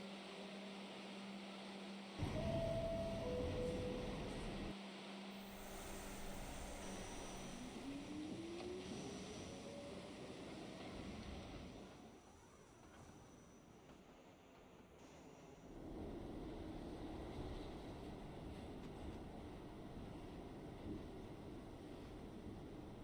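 Subway train running in Trainz 2019 on an R44 H local, a steady rumbling motor drone with a brief tonal whine and chime near the start, dipping quieter midway then swelling again.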